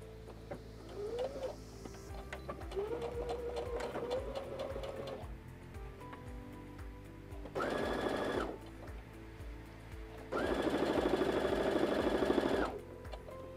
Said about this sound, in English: I'm using the Brother PS500 sewing machine.